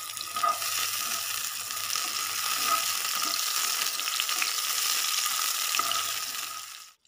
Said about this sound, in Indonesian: Kalau sudah panas, kita bisa masukkan bawang merah, bawang putihnya. Kita oseng sebentar sampai layu.